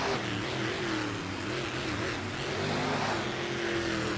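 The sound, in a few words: monster trucks driving out to the start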